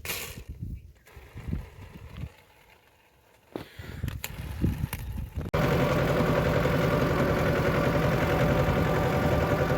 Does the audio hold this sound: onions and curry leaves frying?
no